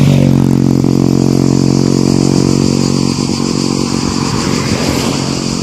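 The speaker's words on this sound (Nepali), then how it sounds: "अमिताभ बच्चनको स्कुटर यहाँबाट भ्याइ गयो।" A scooter engine drones loudly and close, its steady buzzing hum holding then gradually easing as it passes and moves off, with no voices.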